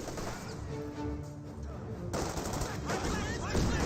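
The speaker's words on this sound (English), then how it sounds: "That was a grenade" A grenade bursts in Company of Heroes 2, a sharp crash over a dense bed of battlefield gunfire and rumbling explosions, with a commentator's voice talking through the din.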